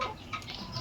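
About sixteen pullets cluck briefly inside a converted wire rabbit cage, a short burst of soft, close hen chatter.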